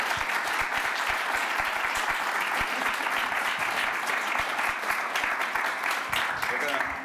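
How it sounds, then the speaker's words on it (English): A steady round of audience applause closes a panel session at a games industry conference, many hands clapping at close range for several seconds, with a voice faintly over the end. "big round of applause"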